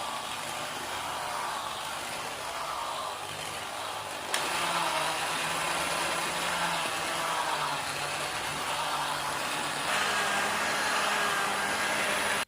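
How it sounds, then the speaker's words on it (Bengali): An electric beater whisks cake batter with milk, making a continuous whirring motor drone that grows a little louder after a few seconds and runs steadily to the end. "কেক ফ্রাই মেশিন দিয়ে ফেটে নেব খুব ভালো করে"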